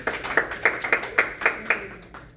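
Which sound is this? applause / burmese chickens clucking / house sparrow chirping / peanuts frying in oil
applause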